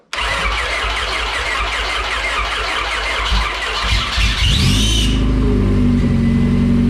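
A Honda F20B car engine cranking steadily on the starter for several seconds, then catching and roaring to life into a loud, rough idle.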